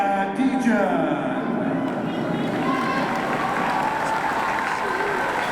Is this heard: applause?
yes